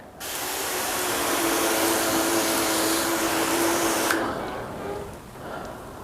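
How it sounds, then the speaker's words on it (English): Garden hose set to mist spraying water over a car during a wax test, a loud, close, steady broadband hiss lasting about four seconds that then cuts off to quiet. "I've got the hose, and we're in mist function"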